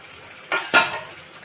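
Fried pointed gourd (potol) pieces dropped into a curry in a pan, two quick close clattering thuds with a brief sizzle, then quiet.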